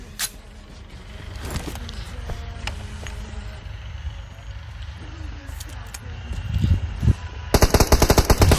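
M4 rifle gunfire rings out in the mobile battle-royale game BGMI, with scattered shots and then a rapid automatic burst at the end, set against game ambience.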